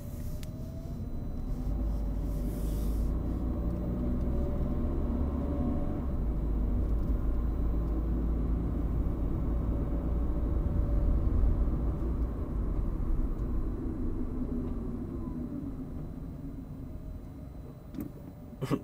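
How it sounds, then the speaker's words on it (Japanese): A Honda Fit's steady low rumble with a faint rising-and-falling electric whine from regenerative braking as it slows down, continuous throughout. "減速時はやっぱりその電車の減速時みたいな音しますね。回生ブレーキの音ですかね。"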